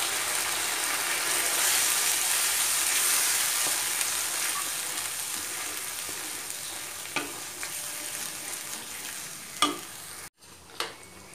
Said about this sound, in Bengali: এবার ভাজিটা ফুটে উঠেছে